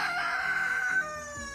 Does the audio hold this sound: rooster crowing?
yes